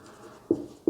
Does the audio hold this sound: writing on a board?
yes